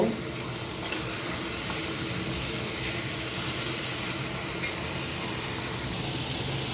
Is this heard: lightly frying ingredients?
yes